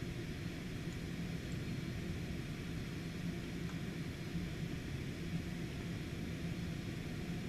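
A Cessna Citation X business jet takes off in a flight simulator, heard as a faint, steady, low jet rumble with a soft hiss and no voices.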